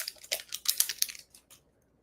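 Scissors snipping through stiff plastic packaging in a craft setting, a quick run of crisp cuts and crinkles, close and fairly loud, fading to a couple of softer snips and then quiet.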